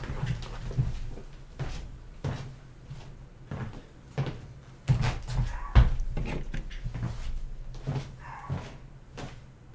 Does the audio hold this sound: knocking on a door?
yes